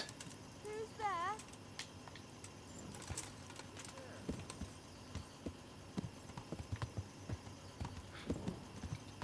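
Steady horse hooves clip-clop on a hard surface in Kingdom Come Deliverance, with a brief whinny early on and background hum.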